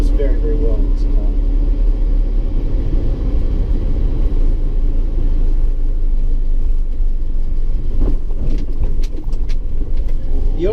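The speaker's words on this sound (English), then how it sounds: "Handles very, very well in this car." A 1958 DKW F93 car on a morning drive gives a constant, loud low rumble heard from inside the cabin, with a voice speaking over it throughout.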